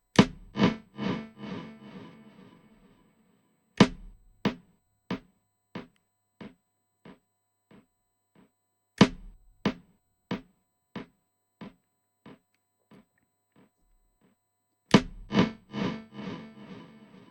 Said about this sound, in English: let's try to increase the delay time to maximum, keep the feedback in the middle, and see how it changes